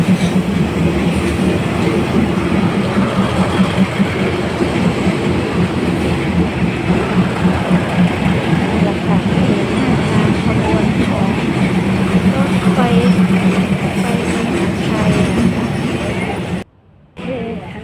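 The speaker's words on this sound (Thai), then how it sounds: "รอบรถไฟที่กลับมาจากมหาชัยนะคะ เพื่อจะเข้ามาเทียบท่า" A train returning from Mahachai rumbles and clatters steadily along the rails nearby as it arrives at the station, with faint voices underneath, before the sound cuts off abruptly.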